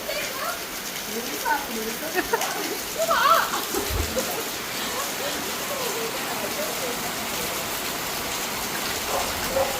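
Steady rain hisses in the background, with a few brief voices and faint bird-like chirps breaking through near the start.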